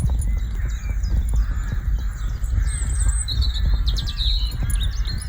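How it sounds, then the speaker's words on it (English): Birds calling outdoors on a quiet lockdown walk, with several overlapping chirps and caws fairly near over a steady low rumble of wind or distant background noise. "You hear the birds?"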